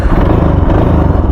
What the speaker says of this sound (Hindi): बाइक स्टार्ट क्यों नहीं हो रही?